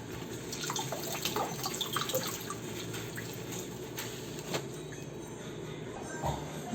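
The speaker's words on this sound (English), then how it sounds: "So now we have to wash our tomato and the cheese." A tomato is rinsed under a running kitchen tap, with a steady rushing stream of water and light splashing that continues throughout, close and fairly quiet, with no talking.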